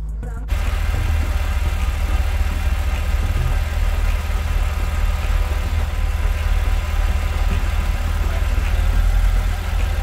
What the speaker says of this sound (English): start the engine, let it run, and then just simply cycle the steering from left to right whilst the engine's running on idle